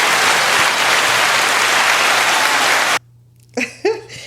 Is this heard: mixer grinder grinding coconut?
no